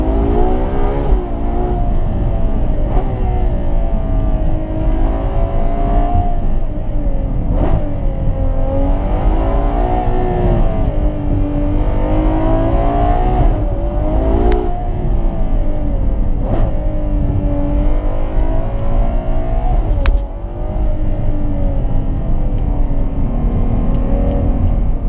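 A loud stock Ferrari 812 Superfast V12 engine revving repeatedly, rising and falling in pitch as it accelerates and shifts, sustained for a long stretch with no talking.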